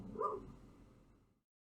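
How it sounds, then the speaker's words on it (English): A single dog bark, short and faint, fading quickly into silence. "I think she's barking at my cat Mayo."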